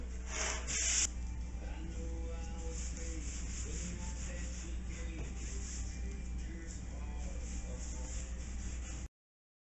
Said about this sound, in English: Alright, sand it down.